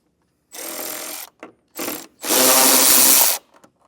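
Power driver with an 8mm socket spinning out a screw on a vehicle's passenger side panel, several close whirring bursts, the last and longest about a second, with brief pauses between.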